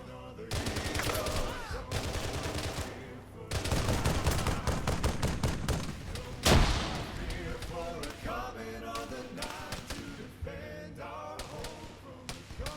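Gunfire in a military shooter video game, with dense, steady bursts of shots running through the whole stretch and a heavy thump around the middle, under occasional voices.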